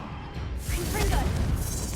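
Confringo blasting spell cast in the Hogwarts Legacy video game, a rushing whoosh swelling into a fiery burst under steady rumbling combat noise.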